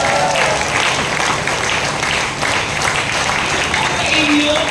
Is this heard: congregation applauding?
yes